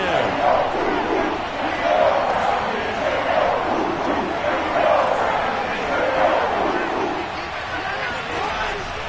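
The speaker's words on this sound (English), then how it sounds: "Crowd getting in it a bit already." Stadium crowd in a Madden football video game cheering and roaring steadily throughout, a dense continuous wash of noise with play-by-play commentary running over it.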